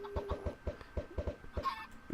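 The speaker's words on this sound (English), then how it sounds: "there's one adult chicken in there already, so that the baby chickens that go to follow them will just walk directly into the hole" Chickens clucking in the Minecraft video game, a series of short, evenly spaced clucks in a steady rhythm, moderately loud and close, with a brief higher chirp near the end and no talking.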